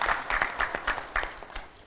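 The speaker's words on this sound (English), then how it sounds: "A round of applause for Dr. Sudhir Srivastava" A seated audience gives warm applause at a robotics event, a moderate, steady patter of many hands clapping that carries on evenly and begins to taper toward the end.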